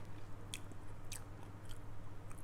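Close, quiet chewing of fried sun-dried fish with rice, with a few crisp bites standing out over a steady low background hum and no talk.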